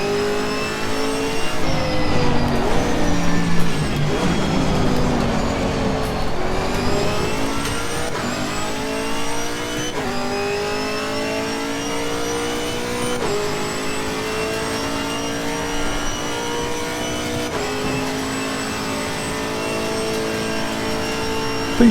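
A Camaro GT4 race car engine at Bathurst in Assetto Corsa Competizione revs hard and steadily, climbing through the gears with repeated upshifts and sustained acceleration, heard alone without talk.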